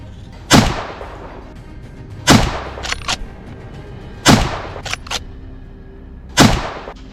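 Four loud gunshots ring out at evenly spaced intervals during a wild boar hunt, each sharp blast followed by a short echoing tail and a smaller secondary crack.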